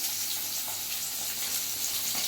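Pieces of katla fish frying in hot oil in a pan, giving a steady, even sizzle with soft crackling, continuous and close with no voices.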